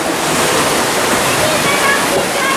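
Sea waves wash against rocky cliffs in a steady, loud roar of surf and churning water that fills the whole clip.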